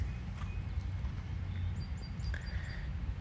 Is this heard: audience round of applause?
no